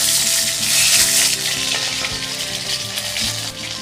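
Tomato pieces hit hot oil spiced with five-spice and sizzle loudly, a bright continuous crackle and hiss throughout, alone without any talk.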